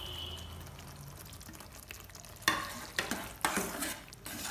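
Egg curry masala in a pan being stirred after salt and chili go in, a low steady sizzle with a few sharp scraping clacks of the spoon near the end, close and alone.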